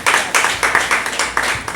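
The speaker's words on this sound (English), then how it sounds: "Give a round of applause for music fans." Audience applause at a comedy show in a bar: a short burst of brisk, dense clapping from a small crowd, close and fairly loud, with rhythmic surges and no talking over it.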